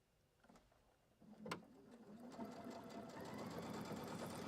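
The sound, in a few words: sewing machine stitching a zipper pouch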